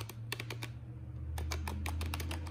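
Keystrokes on a Corsair K63 wireless keyboard with linear Cherry MX switches, a close, crisp run of clicks in irregular bursts over a steady low hum.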